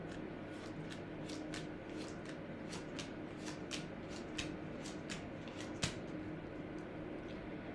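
Tarot cards being shuffled by hand, a steady run of crisp riffling flicks repeating about twice a second, close and fairly quiet over a soft room hum, with no talking.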